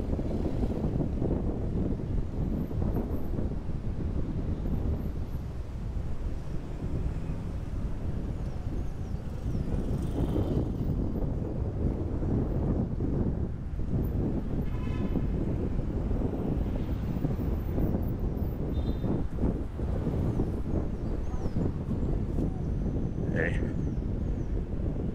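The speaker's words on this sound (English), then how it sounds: "It is so windy out here." Strong wind buffets and roars across the microphone in continuous gusts for a long stretch at Plaza Colón in downtown Cochabamba, Bolivia.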